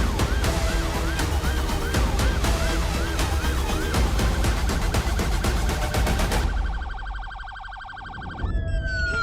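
A loud police car siren wails in a rapid rising-and-falling yelp during a chase, backed by roaring engine noise, then switches to a different electronic tone.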